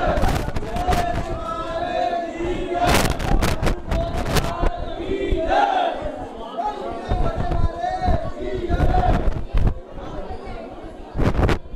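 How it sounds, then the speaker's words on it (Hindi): At Gogaji Mela in Dadrewa Dham, a dense crowd of devotees shouts victory cries amid loud sharp firecracker-like bangs, with voices rising and falling under constant chatter. "जयकारे किए जा रहे हैं सब।"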